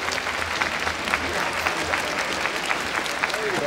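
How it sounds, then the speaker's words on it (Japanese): A kickboxing event crowd applauds both fighters, with steady dense clapping filling the arena at an even level and faint announcer speech underneath. "両選手に盛大な拍手をお願いします。"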